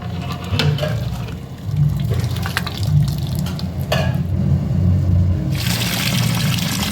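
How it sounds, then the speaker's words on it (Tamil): Tamarind extract poured into a large batch of wedding-style sambar, a steady liquid trickle and splash over a low continuous cooking rumble, with no speech. "புளியை ஊற்றலாம்."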